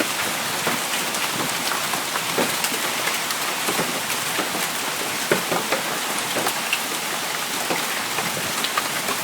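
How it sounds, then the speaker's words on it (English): Big hail, around half an inch, pelts the ground near a football field on a warm June day, a dense, steady patter of sharp impacts that carries on without a break. "Some pretty big hail."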